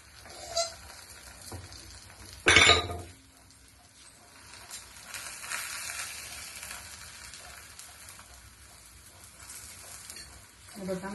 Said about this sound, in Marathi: मी बटरवरच भाजते.